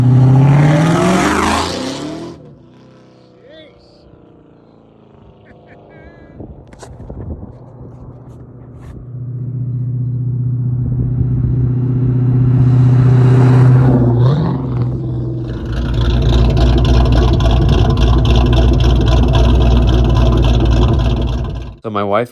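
A 2003 Ford Mustang Mach 1 V8 out in the desert starts up and drives off, its engine rumbling low and then revving loud and steady, rising to a sustained roar over several seconds.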